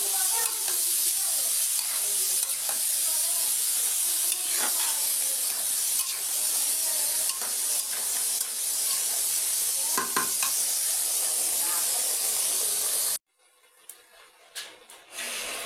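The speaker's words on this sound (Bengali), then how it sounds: "তো আমি এই যে শাকটা সুন্দর করে কষাই নেব" Malabar spinach sautéing in a pan in a home kitchen, a steady hissing sizzle with occasional stirring scrapes that drops away abruptly near the end, leaving faint room noise.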